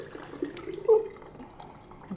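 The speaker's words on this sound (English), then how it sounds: "So I'm going to pour this into this other jar." Basil and rosemary tea is poured from one jar into another, a soft trickling stream that swells briefly in the middle, close and fairly quiet.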